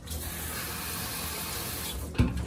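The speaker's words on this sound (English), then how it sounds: "I can probably actually add a little bit more water to this" Tap water runs steadily into a container to dilute dog shampoo while grooming a Golden Retriever, a continuous close hiss and splash ending with a brief louder splash near the end.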